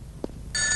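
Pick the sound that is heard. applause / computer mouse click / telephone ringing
telephone ringing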